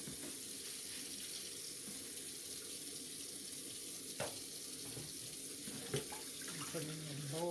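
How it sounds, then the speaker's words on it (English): Cold tap water runs steadily from a faucet into a kitchen sink for rinsing freshly made butter, a continuous close hiss with a few small splashes and clinks toward the end. "but I'm just going to use this cold water."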